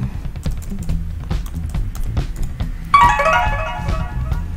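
Typing on a computer keyboard in a LaTeX editor, a run of light, irregular key clicks close by, with a brief tonal chime partway through.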